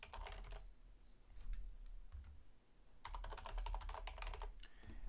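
Fingers type rapidly on a computer keyboard to enter a username and email address, with close, crisp clicking in two dense bursts separated by a brief pause and a few scattered keystrokes.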